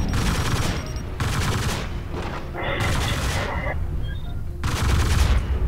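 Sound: mech weapons firing in the video game MechWarrior Living Legends

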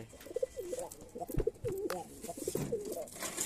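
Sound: pigeons cooing as they come down to land

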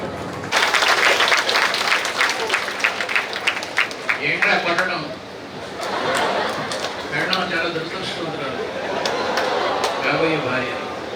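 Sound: audience applause at a speech

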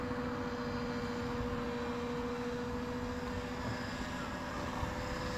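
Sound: Trex 600N RC helicopter flying in reverse

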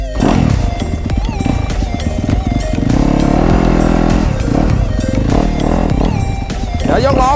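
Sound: Yamaha YZ250F Monster 2021 motorcycle engine

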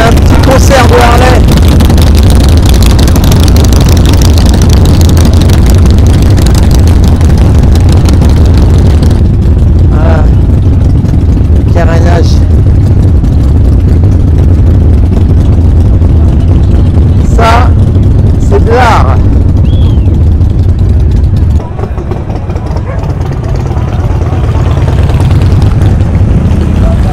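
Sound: Harley-Davidson motorcycle engines

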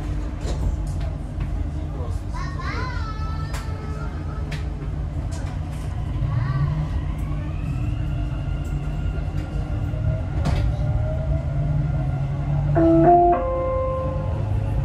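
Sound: Dubai Metro train doors closing and departing

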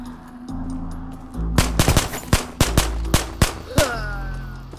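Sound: pistol gunshots in the video game Ghosts of Tabor

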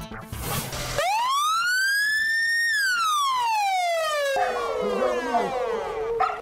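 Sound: siren of a new ambulance vehicle

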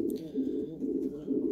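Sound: pigeons cooing

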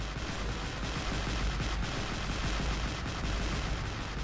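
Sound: Nebelwerfer rocket artillery firing in video game Men of War

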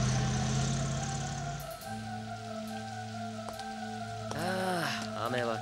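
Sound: rain falling

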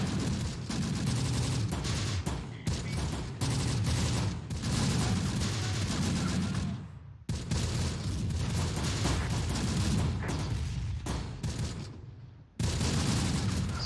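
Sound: artillery and mortar fire in Close Combat: The Bloody First video game

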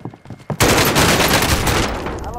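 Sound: shotgun fire in video game Call of Duty: Modern Warfare

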